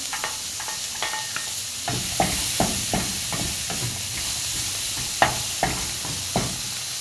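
Chopped onion and garlic sizzle steadily in a hot pan for a Filipino chicken-and-tomato dish, with repeated sharp scrapes and clacks of a spatula stirring at a quick, uneven rhythm close by.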